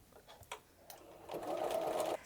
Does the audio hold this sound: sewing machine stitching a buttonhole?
yes